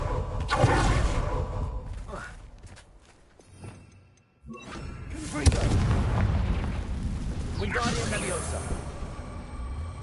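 Fiery Confringo spell blasts in the Hogwarts Legacy video game: sharp booming impacts and whooshes burst out in two loud clusters, separated by a brief lull, with a spell called out in between.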